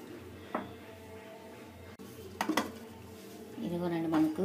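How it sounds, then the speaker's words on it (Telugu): A pressure cooker holding cooked dal with Malabar spinach is opened once the steam is gone, giving a few sharp metallic clanks and scrapes of the lid against the pot, close and moderately loud. "మూత తీసుకుందాము."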